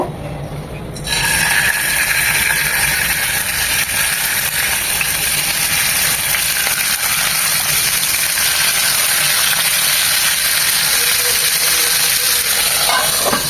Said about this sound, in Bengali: এখন মাংসগুলো ভেজে নেব